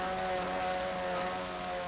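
1957 Mercury outboard racing boat speeding past on the water at Cypress Gardens, Florida, a steady loud buzzing engine drone with sustained whine, no voices.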